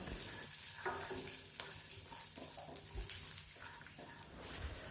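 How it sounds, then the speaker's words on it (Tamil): Ginger, garlic and small shallots sauté in a pan for Chettinad mushroom kuzhambu. A faint, soft sizzle runs throughout, broken by quiet knocks and scrapes of stirring. "1 இன்ச் அளவுக்கு இஞ்சி, 5-6 பல் பூண்டு, 5-6 சின்ன வெங்காயம் எல்லாம் சேர்த்து வதக்கணும்"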